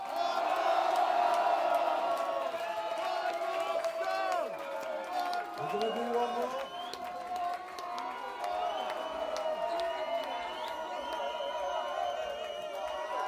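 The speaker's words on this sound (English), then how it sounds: "Shout more, please." A festival crowd at a live music show shouting, whooping and cheering in a sustained roar, with many overlapping voices calling out and someone speaking briefly over the din.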